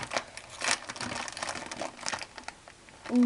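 A Ülker Crispy Tırtıklı potato snack bag being opened up close, giving irregular crinkling and rustling of the plastic packet with brief tearing bursts, fairly soft and without talk.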